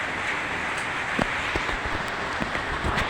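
Light rain falls around a roadside waiting shed, a soft steady patter with scattered nearer drops tapping on surfaces, fairly quiet and with no voices.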